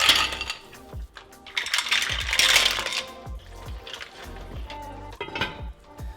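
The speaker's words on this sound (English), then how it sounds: "We're gonna put the clams, the mussels, covered with the lid and cook for 5 minutes." Clams and mussels are dropped into a pot of cioppino, clattering shells knocking against metal in a quick jumble of hard clicks, followed by a few lighter taps as the lid goes on.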